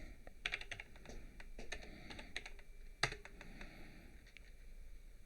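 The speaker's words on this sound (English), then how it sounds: "I'm gonna type in text." A computer keyboard is typed on: quick, uneven bursts of light key clicks close by, one sharper tap among them, fairly quiet and with no speech.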